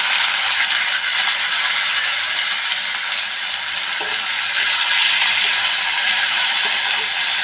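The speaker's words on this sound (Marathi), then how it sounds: "आता ह्यामध्ये ह्या पेरूच्या फोडी टाकून परतून घेऊया" Guava pieces sautéing in a pan after cumin and asafoetida go in, a steady loud hiss and sizzle with faint scraping of stirring throughout, no talking.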